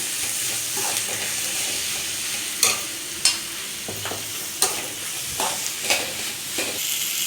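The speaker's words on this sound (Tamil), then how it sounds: "தக்காளியை ஆட் பண்ணிவிட்டு நல்லா அதுவும் கொஞ்சம் வேகிற வரைக்கும் அதை நம்ம நல்லா கிண்டி விடணும்" Chopped tomatoes frying with onions for a prawn gravy as they are stirred in a pan, with a steady close sizzle broken by several sharp spoon knocks against the vessel and no voices.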